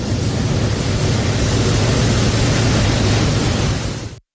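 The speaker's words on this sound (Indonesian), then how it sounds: "Satgas Udara juga mengerahkan helikopter untuk pengeboman air atau waterbombing" Water-bombing helicopter flying over forest fires, heard as a loud, steady broadband roar of rotor and engine that holds constant for about four seconds before cutting off abruptly.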